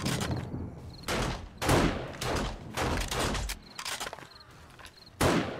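Gunfire in the survival video game 7 Days to Die during a blood moon horde night, heard as repeated loud sharp shots in bursts and single cracks, some rapid volleys, close and punchy with brief gaps.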